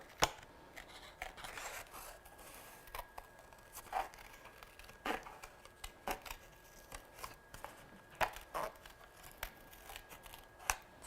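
Scissors snip around a painted paper card in short, irregular crisp cuts close by. Quiet paper rustling fills the gaps and no one talks.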